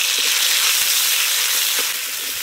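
Spice pastes of cumin, coriander and green chilli with black cumin seeds fry in hot mustard oil, giving a steady, dense sizzle with a few faint stirring clicks, close and continuous throughout.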